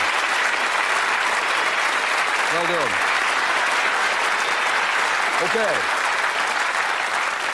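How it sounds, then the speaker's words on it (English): A British game-show studio audience gives a sustained round of applause, a dense, even wash of clapping throughout. A host's voice briefly speaks over it twice. "Give them a round of applause."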